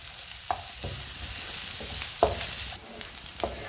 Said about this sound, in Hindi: प्याज को हल्का सा ब्राउन कर लेंगे